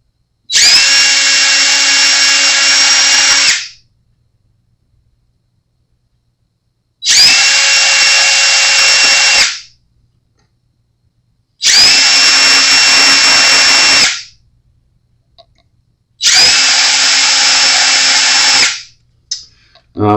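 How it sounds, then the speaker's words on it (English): Power drill boring pilot holes into the bare wood of a Jackson Dinky guitar body, four loud whining bursts of about three seconds each separated by silence. "drilling into virgin wood."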